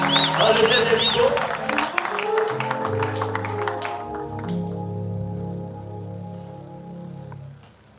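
Audience applause and cheering welcome a performer at a worship gathering, dense clapping at first that gives way to sustained music tones and fades toward the end.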